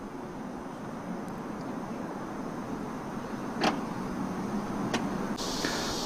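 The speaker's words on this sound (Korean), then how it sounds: "테일게이트는 전동으로 작동하고 버튼 살짝 눌러주시면" A 2022 Cadillac Escalade ESV's power tailgate runs shut with a smooth, steady electric motor whine over a low ambient hum, punctuated near the end by a couple of soft clicks and a latch.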